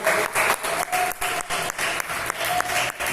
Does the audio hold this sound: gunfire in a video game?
no